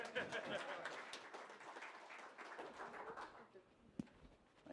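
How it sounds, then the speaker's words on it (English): Applause from a business meeting audience rises in a dense wash of clapping that tapers off, with a voice speaking faintly over it near the end. "let's give a round of applause for Cup of Joe for being here"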